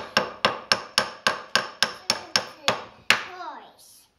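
Eleven sharp toy hammer taps strike in a steady, even rhythm, close and crisp, each one ringing briefly before the next; no talking.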